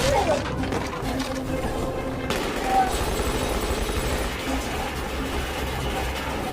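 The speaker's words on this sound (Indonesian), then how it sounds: "Untungnya, Misun bisa menembak Park di sana" Gunfire in a heist film rings out in a few sharp bursts amid tense scene sound and music, mixed at moderate level beneath a dense soundtrack.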